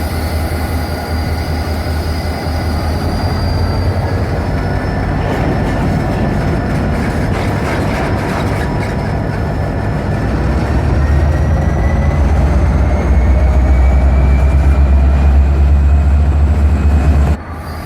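A rebuilt, repainted model locomotive runs along a diorama layout with a continuous close, even rumble and steady mechanical whir that grows slightly louder and deeper toward the end.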